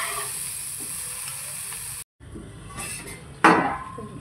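Tomato gravy sautéing in a pan for a village-style paneer curry, a moderate sizzle that cuts out briefly, then resumes more quietly with a sharp scrape and clink of stirring.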